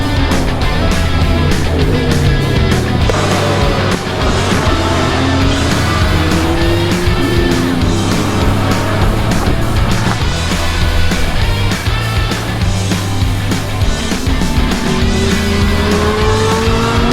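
An LMP2 prototype race car laps Daytona, its engine loud and close, repeatedly revving up and shifting with rising and falling pitch sweeps and tire noise throughout.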